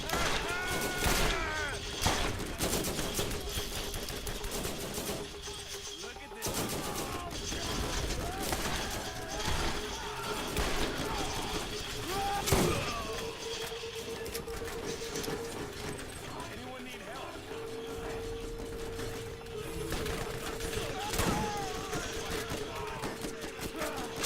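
Gunfire in the video game Borderlands Remastered, with rapid bursts of shots and mechanical clatter running under a busy game soundscape alongside a voice.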